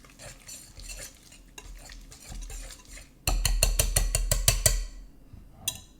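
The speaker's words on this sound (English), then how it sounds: "Just whisk everything together." Ingredients being whisked together in a bowl, soft stirring at first, then a fast, loud rhythmic clatter of a whisk against the bowl that stops abruptly, followed by a last single tap, close up.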